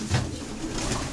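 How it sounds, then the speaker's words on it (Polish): A breeding pigeon in a loft gives a short, low coo close by. The call stands alone over soft background noise. "I to jest gołąbek"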